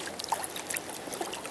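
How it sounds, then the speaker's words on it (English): A fish slips back into river water from a fishing trip, giving a faint, brief trickle and soft splashy dribble close by. "And now we put him back in the water."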